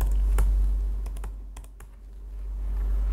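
Typing on a Mac keyboard, a handful of crisp, close key clicks at irregular intervals over a steady low hum, with no voice present.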